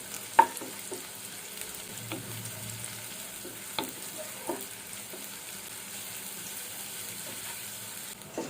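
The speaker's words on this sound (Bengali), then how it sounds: "এখন পেঁয়াজগুলোকে মোটামুটি নরম হয়ে আসা পর্যন্ত ভেজে নেব।" Chopped onions frying in mustard oil over medium heat for a hilsa curry, a steady soft sizzle broken by a few sharp clicks of a spatula against the pan, close and fairly quiet.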